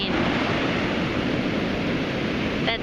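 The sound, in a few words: ocean waves breaking on the shore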